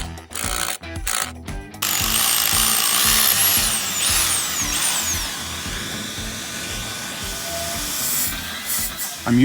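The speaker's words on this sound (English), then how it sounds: "I'm using a can of compressed air to help blow out all this concrete dust." A can of compressed air blows concrete dust out of drilled holes for interior post brackets in a house foundation, giving a few short sharp bursts and then a long, loud, continuous hiss.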